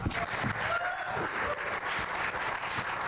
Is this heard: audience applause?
yes